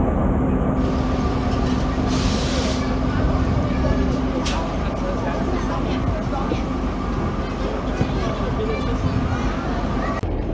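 Steady rumble and rolling noise inside a moving passenger train, continuous throughout with faint voices in the background.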